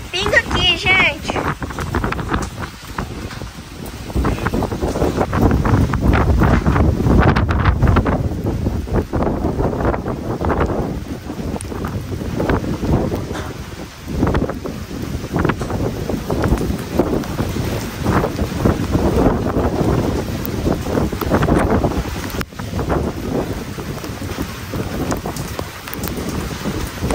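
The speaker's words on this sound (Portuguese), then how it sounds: "Meu Deus, que vento forte, viu?" Strong wind roars without a break through a sudden rural rainstorm and batters the microphone, with heavy rain hissing steadily under it and someone talking now and then.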